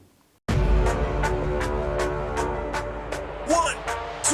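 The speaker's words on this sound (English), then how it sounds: "On cue point 1 we got the instrumental" Trap instrumental played from a cue point on a Hercules DJControl Inpulse 500 starts abruptly after a brief pause, with a steady thumping beat, bass and hats, and short vocal-like sample stabs near the end.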